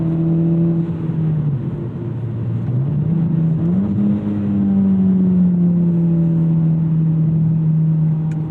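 A 2014 Mitsubishi Lancer Evolution X accelerates hard with turbo boost, engine pitch dipping on a gear change and then climbing steadily in a loud, close, sustained drone heard from inside the car.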